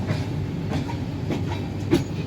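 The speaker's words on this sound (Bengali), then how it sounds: "গাড়ি ছেড়ে দিয়েছে, এগিয়ে চলেছে।" A passenger train running from Howrah to Puri rolls steadily, with a continuous rumble and faint rhythmic clicking of wheels on rail joints, heard from inside the carriage with no talk.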